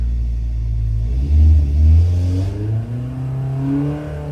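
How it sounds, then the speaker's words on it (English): An engine runs under load on a dyno, a heavy low rumble that rises and falls as it revs, with an uneven rattling from the dyno shaft beneath the drone. "So then the dyno shaft is having a good rattle now. You can hear it."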